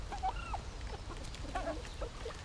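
Faint, soft clucking from a few hens, scattered brief calls over a quiet background murmur.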